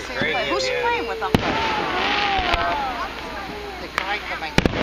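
Outdoor Fourth of July fireworks display in Stroudsburg, Pennsylvania, 2012, with several sharp bangs scattered through the stretch, the last two in quick succession, heard over continuous close crowd murmur and people talking.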